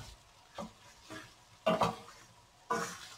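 Pork fat renders into lard in a pan, with a faint sizzle broken by a few louder scraping stirs at irregular intervals, close and without talk.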